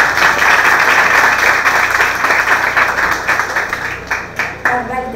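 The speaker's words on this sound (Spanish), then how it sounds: "Fuerte el aplauso para Carla." Audience applause for a student contestant at a regional school competition final in Guna Yala, a dense sustained wash of clapping that thins toward the end.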